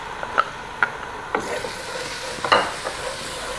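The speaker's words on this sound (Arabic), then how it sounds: "بعد لما البصل شقر معانا حطينا الصلصة وحمسنا كمان الصلصة" Tomato paste sautés with browned onions in a pan, a soft sizzle under a handful of sharp scraping stirs against the pan, close by and with no talking.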